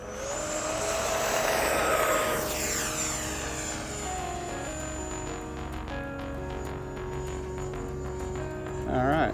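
An E-Flite F-16 Thunderbirds 70mm EDF RC jet takes off with a loud rising ducted-fan whine that peaks, then sweeps away and fades into the distance before a gust hits the microphone at the end.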